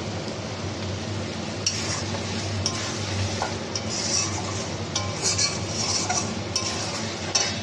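Chicken sautéing in a pot as garam masala is stirred in, a constant sizzle under repeated scraping and clinking of a spoon against the pot, with no voices.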